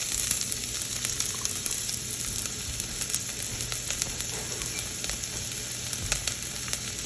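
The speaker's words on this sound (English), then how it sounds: "We're going to saute some of our shallots here first" Shallots sauté in a tablespoon of oil in a Le Creuset mussel pot, giving a constant close crackling sizzle with small sharp pops scattered throughout.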